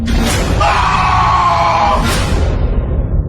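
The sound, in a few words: scared scream of a man in a story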